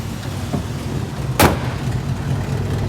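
A warmed-up 1963 Buick Electra 225 with the choke off idles slightly rich in a steady low rumble. A single sharp thunk lands midway, like the hood being shut.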